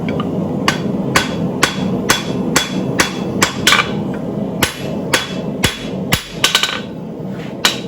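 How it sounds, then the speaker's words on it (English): Hard hammer blows forging blacksmith tongs on an anvil, sharp ringing strikes landing in an uneven rhythm, some in quick pairs, close and loud over a steady background hum. "I've got a good hard hammer blow because I'm on the diagonal"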